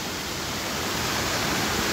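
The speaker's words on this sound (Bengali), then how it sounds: "এই যে আওয়াজটা পাচ্ছিলাম না, এটা ওপর থেকে বয়ে এসছে এই ঝর্ণাটা" A mountain waterfall stream at Gandharva Nala on Parasnath hill rushes down in a constant, even roar of white water, close and loud, with no other sounds breaking through.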